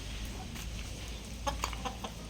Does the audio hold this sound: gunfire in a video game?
no